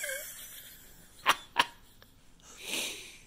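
A dog sneezes twice in quick succession, two sharp close bursts about a third of a second apart, followed by a softer snort or sniff; no talking over it.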